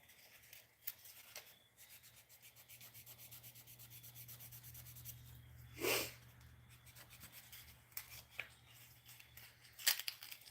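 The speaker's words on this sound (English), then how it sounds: "I'm just doing a lot of sanding right now" Fishing lures are sanded by hand during prep work before painting, giving soft, quiet rhythmic rubbing strokes with a few sharper scrapes, close but faint in a quiet room.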